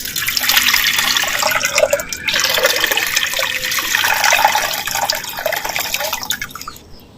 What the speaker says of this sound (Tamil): மண் சட்டி வச்சுக்கிறேன் நமக்கு தேவையான அளவு பச்சை தண்ணி வந்து சேர்த்துக்கிறேன்